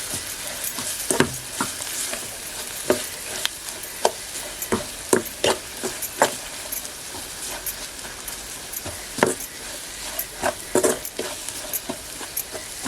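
Goda masala sizzles in hot oil in a pan on a wood-fired stove, a steady loud frying hiss with repeated sharp scraping and stirring clatters from a spoon, close up and without talk.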